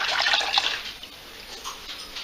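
Tap water runs steadily into a gallon container for kombucha tea, a continuous close hiss and trickle that fades slightly toward the end.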